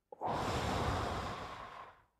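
A single deliberate breath during a guided breathing exercise, one close, steady airy exhale lasting about two seconds before fading out, heard alone.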